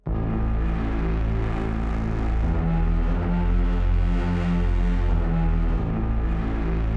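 Cages patch from the Spitfire Audio Albion Colossus sample library, a dense continuous cinematic drone with thick low rumble and a shifting metallic texture, loud and sustained throughout with no talking.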